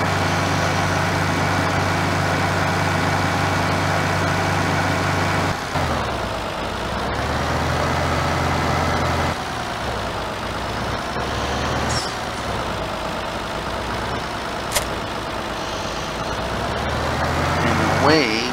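A fast tractor's engine in the video game Farming Simulator 18 drones and changes pitch as it drives, with a brief hiss and a voice talking over parts of it.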